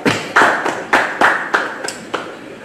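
A Bible study congregation in a church claps together, a loose, fairly loud series of about eight rhythmic claps that gradually fade out.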